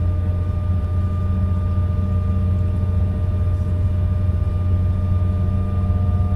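An airliner jet engine spools up during start in a flight simulator, a loud steady low roar with a thin sustained whine above it, unbroken and without voices.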